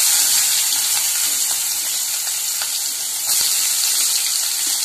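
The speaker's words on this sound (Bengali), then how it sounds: "এবার পেঁয়াজগুলো দিয়ে দেবো।" Onions fried in hot oil with cumin and bay leaf give a loud, steady hiss and sizzle that runs unbroken throughout, with a few faint clinks underneath and no talking.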